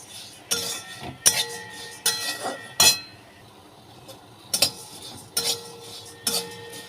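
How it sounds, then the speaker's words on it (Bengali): A spoon scrapes and clinks through puffed rice in a metal pan, in bursts of sharp, close strokes separated by short pauses, with no voices. "মুড়িটাকে একটু ভালো করে নাড়াচাড়া দিয়ে নিতে হবে"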